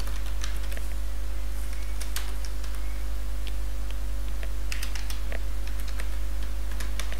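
Someone types on a computer keyboard, with irregular bursts of close, crisp key clicks and short pauses over a constant low hum.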